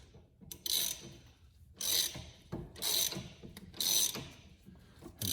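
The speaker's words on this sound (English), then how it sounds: "go ahead and grab your ratchet." A ratchet wrench cranks in four bursts of rapid clicking, pushing a suspension bushing through on a 2019 Dodge Challenger R/T during a lowering spring install; close and clear with short pauses between strokes, no talk.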